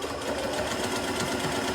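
Close, steady whir of a sewing machine running through a buttonhole stitch on leather or vinyl, a continuous fast mechanical purr with light knocking texture and no talk.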